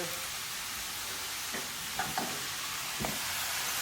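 Mushrooms sizzle in a blazing hot frying pan, a steady hiss of frying with a few soft scraping stirs and taps of a utensil, close up, no talk.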